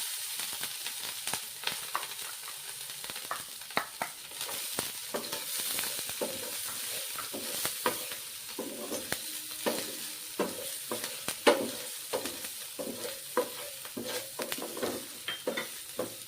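Capsicum stir-fried in a pan for a quick semolina (rava) snack: a steady sizzle with frequent sharp spatula clicks and scrapes throughout, close and moderately loud, with no talking.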